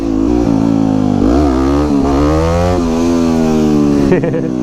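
A supermoto motorcycle engine revs hard during wheelie practice, loud and close, with rising and falling throttle blips and sustained high revs throughout, a shift in pitch near the end.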